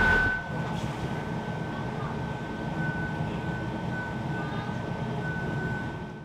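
A passenger train pulls out of Gloucester station toward Bristol, heard from inside the carriage as a steady, close low rumble with a faint, constant high whine running throughout.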